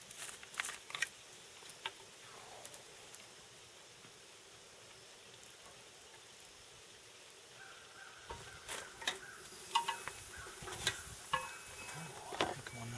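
Grilled squirrel sizzling over a hot open fire, a soft crackling hiss with scattered pops that grows busier toward the end, heard close and alone.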